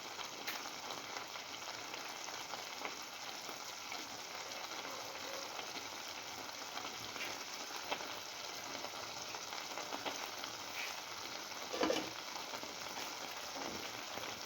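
Scrambled egg, cucumber and coconut stew simmers in a covered pan, giving a steady, soft frying crackle and sizzle throughout with occasional small pops, heard alone without voices.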